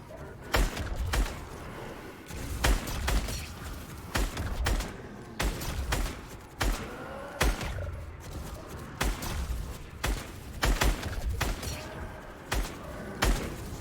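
Repeated gunshots ring out in the Fortnite video game while skeet targets are shot in aim practice, sharp cracks at an irregular, fairly quick rhythm throughout, close and loud with no talking.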